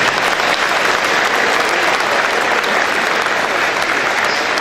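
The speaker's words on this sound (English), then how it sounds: "And that's worth applause, incidentally." Audience clapping at a chamber of commerce governor's breakfast, a dense, loud, even wash of applause filling the whole few seconds with no voices over it.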